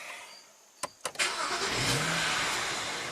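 A BMW 335i twin-turbo engine cranks with a few sharp starter bursts, catches, and settles into a steady, close idle with a slight rev swell.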